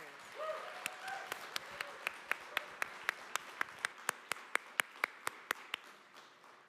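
Audience at a film festival Q&A claps for two directors: scattered applause that settles into a slow, steady rhythm of about twenty single claps, fairly close and moderately loud, with a few voices murmuring early on.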